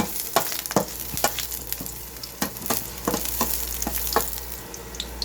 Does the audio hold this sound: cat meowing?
no